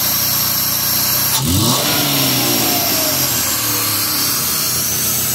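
A Toyota 1FZ engine with a freshly installed cylinder head fires up and revs, its roar rising and then easing into a steady, close running note, with no one talking.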